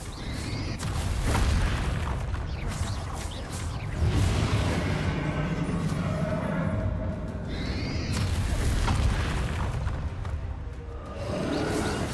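Spell explosions from a wizard's casting in the Hogwarts game boom and whoosh repeatedly, loud and dense, with rumbling blasts following one another across the whole stretch.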